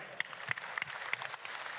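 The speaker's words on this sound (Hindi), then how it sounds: "जोरदार ताली।" Applause from an audience at a state-level cow-shelter gathering: thin, scattered claps heard from a distance, with individual hand slaps standing out over a quiet background.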